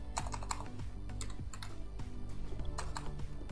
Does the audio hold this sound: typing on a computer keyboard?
yes